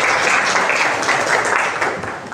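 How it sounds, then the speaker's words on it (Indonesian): Classroom applause from secondary school students at the close of an Islamic religious education lesson, a steady wash of clapping hands filling the whole short stretch at even loudness. "Oke, sip, tepuk tangan."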